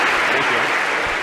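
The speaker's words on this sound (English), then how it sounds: "we give you a round of applause for having done that very well" Audience applause in a lecture hall after a volunteer's demonstration: steady, dense clapping from a large crowd, fairly close and loud, filling the whole moment with no voices over it.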